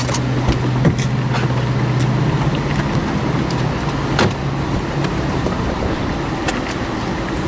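A car on a test drive, its engine and road noise a steady close drone inside the cabin, with occasional clicks and knocks and no talking.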